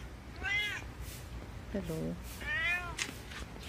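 Cats meow indoors at home, a few distinct drawn-out meows spaced across a few seconds, close and fairly clear, with a person speaking briefly between them.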